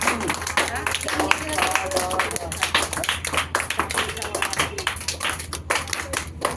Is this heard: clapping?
yes